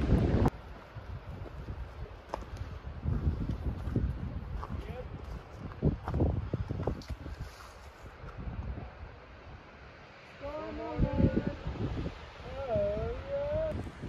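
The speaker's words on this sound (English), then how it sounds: "It's a wee bit windy up here" Wind gusts buffet the microphone on a grassy mountain pass in the Rawah Wilderness, coming in rough, uneven rumbling bursts that rise and fade, with voices talking over it.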